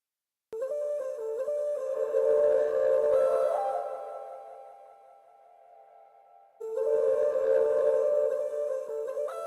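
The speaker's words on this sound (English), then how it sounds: "I'm just sending this to a hall type reverb" Sustained synth-like tones ring out in a spacious hall reverb, swelling, fading into a lingering tail, then returning; no voices.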